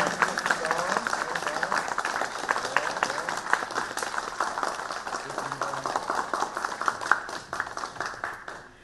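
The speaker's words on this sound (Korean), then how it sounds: "다시 한번 박수 뜨겁게 보내주시면 감사하겠습니다" Attendees at a Korean video contest award ceremony applaud warmly during a group photo session, a moderately loud spread of many hands clapping with some sharper individual claps standing out and faint voices mixed in.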